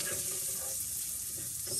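Bacon frying in a pan while being moved around, a steady low crackling sizzle with faint stirring scrapes, fairly quiet and continuous, no voices.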